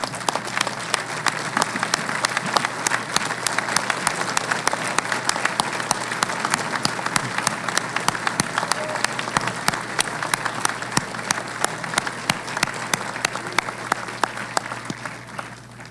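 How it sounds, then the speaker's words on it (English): Sustained applause from a large audience at a university engineering graduation ceremony, dense steady clapping filling the hall for about sixteen seconds with no talk over it. "please stand, and let's give them one more round of applause"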